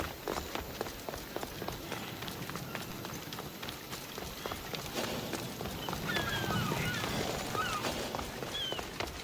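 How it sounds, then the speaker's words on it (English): A character runs on foot in the video game Assassin's Creed Odyssey. Quick, steady footfalls patter continuously under a busy outdoor ambience with faint birdsong. "Ah, I could hear your footsteps."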